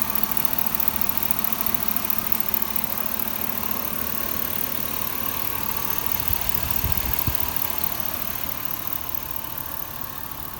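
A 2004 Chevrolet Suburban engine idles steadily and evenly throughout, a fairly quiet hum with light ticking from its injectors, and no voices.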